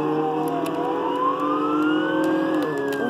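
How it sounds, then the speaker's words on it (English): A police car siren in the video game Jailbreak wails steadily with a rising, sweeping tone over a faint motor hum, close and continuous. "you can turn on the siren as well"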